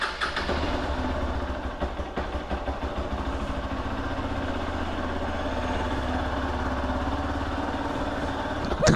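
A Hero Xpulse 200 4v motorcycle with around 36,000 kilometres on it runs with a low, uneven engine rumble and some jerky pulses, fairly quiet, with a short burst of noise near the end.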